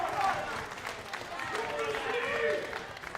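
A darts crowd at the ADC Global Championship grand final bursts into steady clapping and cheering that holds for a few seconds, with a commentator's voice talking over the applause.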